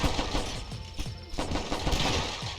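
Dense, rapid gunfire bursts from the zombie video game The Last Stand, loud and continuous with overlapping shots and crashes throughout the short stretch.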